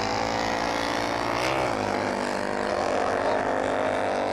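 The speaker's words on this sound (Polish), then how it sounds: "dwa motocykle żużlowe, ale idzie" Speedway motorcycles racing in a classic-bike beach race in Denmark whine past at a distance, a sustained buzzing drone with a brief pitch shift as one passes.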